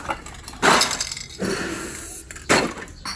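Cans and glass bottles clink and clatter in several sharp bursts, close and loud, with quieter rattling in between.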